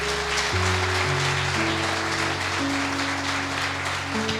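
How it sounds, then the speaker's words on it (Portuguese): A church congregation applauds, a steady wash of clapping that continues throughout over sustained keyboard or organ chords. "Jesus merece um aplauso essa noite."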